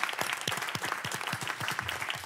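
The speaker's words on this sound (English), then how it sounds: "let's give them a big round of applause" Audience applause at a city council meeting, a dense steady round of clapping from a modest crowd, fairly faint and even from start to finish.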